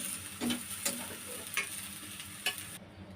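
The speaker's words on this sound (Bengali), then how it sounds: "পেঁয়াজটা খুব বেশি ভাজবো না। যখন পেঁয়াজটা নরম হয়ে আসবে তখন এ পর্যায়ে পেঁয়াজটা আমি তুলে নেব।" Onions fry gently in oil in a cooking pot for tomato bhorta, giving a soft, steady sizzle with a few light scraping stirs of a spoon. It is fairly quiet, with no talking.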